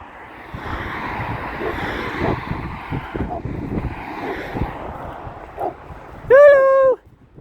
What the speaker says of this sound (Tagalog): Ang cute mo naman tumahol.